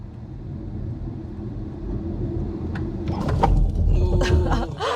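Zeekr 7GT electric car pulling away from a standstill with a low rumbling road and motor sound that builds in loudness, then a burst of sharp clicks and thumps as hard braking engages ABS, heard from inside the cabin.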